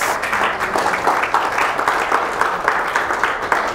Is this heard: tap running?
no